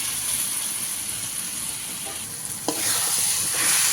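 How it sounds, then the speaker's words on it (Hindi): Small cut pieces of ridge gourd (turai) fry in a pan with softened tomatoes, giving a continuous close sizzle and hiss that swells briefly near the end, with no talking. "1 मिनट के लिए तुरई को भूनेंगे।"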